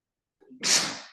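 A single sharp sneeze, close and loud, preceded by a short intake of breath.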